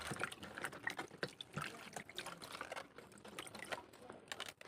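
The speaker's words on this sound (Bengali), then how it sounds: "এখানে একটা গামলার মধ্যে জল নিয়েছি, এইবার এই পাতাগুলোকে আমি একটু ধুয়ে নেব" Cabbage leaves are swished and rinsed in a bowl of water, with close splashing, trickling and dribbling in uneven bursts and faint talk underneath.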